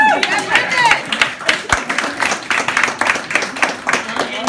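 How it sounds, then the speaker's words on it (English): Audience at a comedy show at The Avenue in Glendale, NY claps and applauds in a busy, uneven burst, close and fairly loud, with voices and cheers mixed through the crowd noise. "So can we give him a round of applause?"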